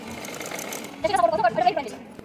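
A sewing machine runs a quick burst of stitches through Punjabi dress fabric while someone talks over it. The whirring, rapid-fire stitching is close and fairly loud, lasting about a second.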